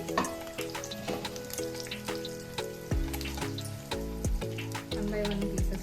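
Eggs fry in hot oil in a pan for egg dum biryani, a continuous close sizzle broken by repeated scraping and stirring knocks from a utensil.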